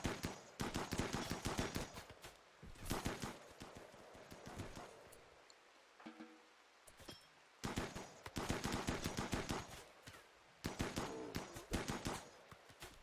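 Video-game gunfire rattles off in rapid bursts at hostile insect creatures, several loud automatic volleys separated by brief quieter gaps.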